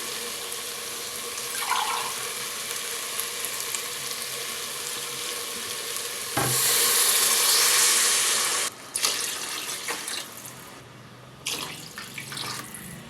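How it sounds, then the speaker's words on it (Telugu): Water pours steadily into a pot of basmati rice for egg biryani for several seconds, a rushing splash that stops and restarts with brief clatters. "మూడు గ్లాసులు నర్ర నీళ్ళు పోసుకుందాం"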